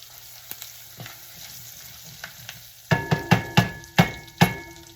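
A spoon scrapes and stirs tomato paste in a cooking pot for a West African peanut butter stew. A few faint taps come first, then about six firm, rhythmic scraping strokes close by. No voices.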